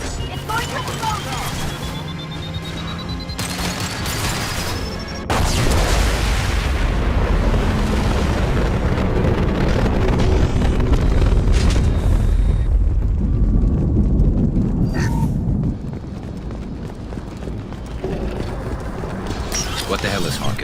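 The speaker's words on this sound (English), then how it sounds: "Fire in the hole. It's going to explode." A deep, sustained explosion in the Mass Effect 2 video game, with a heavy booming roar and rumbling debris that swells then fades, loud and near, followed by lingering low rumble.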